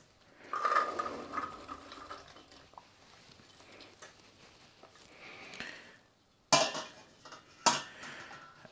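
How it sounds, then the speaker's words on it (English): Chickpeas with spices, onions and softened tomatoes stirred in a pan, making soft scraping and sizzling scuffs, then two sharp utensil knocks against the pan near the end, close by with no speech. "So I'll give the chickpeas a nice stir"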